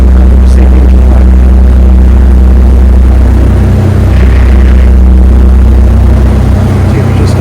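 A Leopard 45 catamaran's engine at full throttle and 100% load, driving feathering Kiwiprops: a loud, continuous low drone with steady pulsing hum and a constant rushing background, no pauses.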